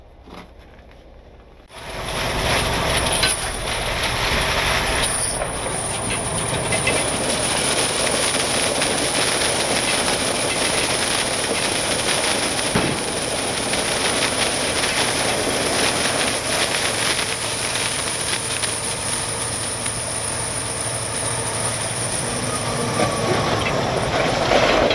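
Truck driving from pavement into snow with automatic tire chains dropping down, a steady loud rumbling road and chain clatter running throughout after a brief quieter start.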